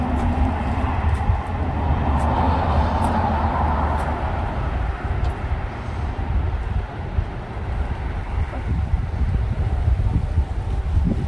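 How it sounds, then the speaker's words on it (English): Strong wind buffets the microphone outdoors in a Finnish summer garden in a continuous low rumbling roar, with occasional faint clicks and no talking. "It's so windy."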